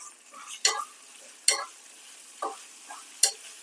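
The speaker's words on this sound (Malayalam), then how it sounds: "പച്ചമുളകെല്ലാം ഒന്ന് വഴണ്ടി വരട്ടെ" Green chillies and salt are stirred and sautéed in a hot pan, a soft sizzle broken by four sharp spoon scrapes at uneven intervals, heard close and alone.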